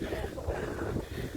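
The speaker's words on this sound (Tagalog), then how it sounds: "Sarap ng simoy ng hangin." Wind rushing and buffeting against the microphone while cycling, a steady, rumbling roar of open air at speed.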